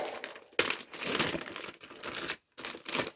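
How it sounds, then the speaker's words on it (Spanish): A plastic bag holding craft tools is handled up close, giving a series of loud, irregular crinkling bursts separated by short silent pauses. "primero os enseño esto, que viene en otra bolsa de plástico"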